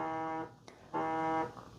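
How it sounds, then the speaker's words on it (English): Phone alarm ringing, two loud bursts of a steady, tonal electronic beep pattern separated by a short gap, close and clear with no talk over it. "that's an alarm"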